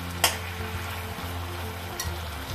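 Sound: frying ginger garlic paste in a pan

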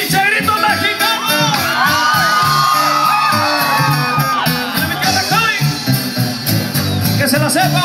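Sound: Mexican grito, crowd whooping and yelling

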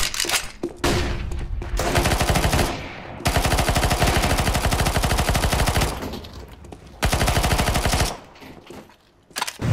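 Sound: PP-Bizon gunfire in video game Counter-Strike: Global Offensive

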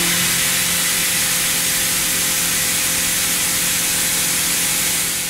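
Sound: CNC spindle milling a slot with BIG-PLUS holder

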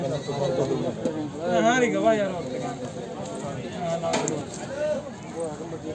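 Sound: goat bleating at goat market

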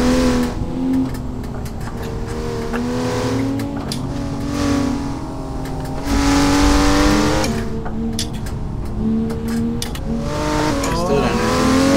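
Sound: Porsche GT2 RS accelerating in a drag race

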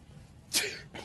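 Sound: sneeze

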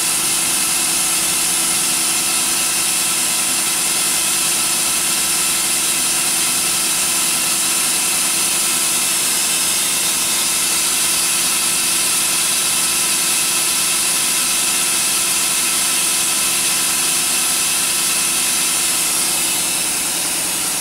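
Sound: machine air compressor recycling

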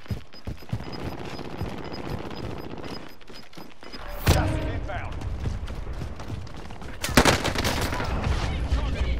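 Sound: gunfire in Call of Duty video game

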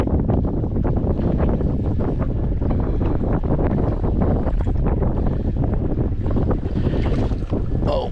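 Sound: wind on a lake while fishing from a boat

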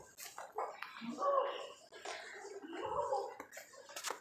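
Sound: puppy barking

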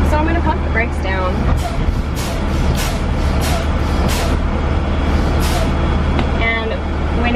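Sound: school bus air brakes being pumped down

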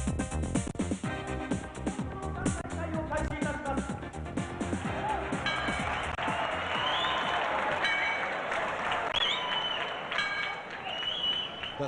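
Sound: crowd applauding in the Budokan stadium, Tokyo

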